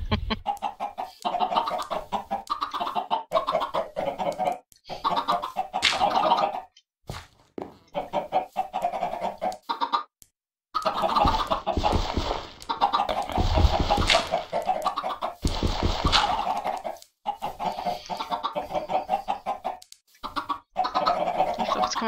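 Chickens in the Minecraft video game cluck in short, repeated bursts separated by brief silences, with clear game sound effects and no talking.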